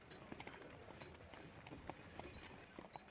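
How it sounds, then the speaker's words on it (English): Horse hooves clip-clop steadily on a road at night, approaching from behind in a regular, quiet rhythm of soft knocks over a faint background. "I heard a horse approach from behind."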